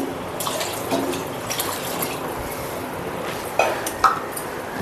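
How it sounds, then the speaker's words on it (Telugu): Water runs and splashes steadily into a rice pot, a continuous pouring wash with a couple of brief clinks near the end. "దీనికి 6 కప్పులు వాటర్ పోస్తున్నాను కొలత పెట్టి"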